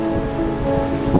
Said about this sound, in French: il y a des vagues qui poussent le bateau et qui font dandiner de droite et de gauche